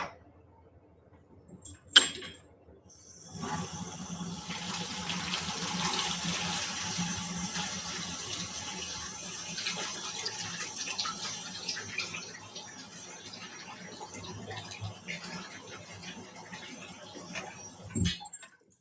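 A tap runs steadily while brewing parts, including tri-clamp fittings, are rinsed, with a loud clatter of metal near the start before a continuous splashing stream that lasts until a final knock.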